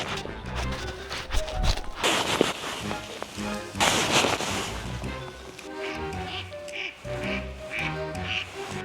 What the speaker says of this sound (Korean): 오리 잘 나네?